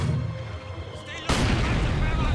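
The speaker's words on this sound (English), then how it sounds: "See, I have the 120mm mortar in position." A 120mm mortar fires in the strategy game Company of Heroes 2, a single loud booming blast that bursts in midway and rolls on as a dense rumble, replacing a quieter background of ambient battle noise.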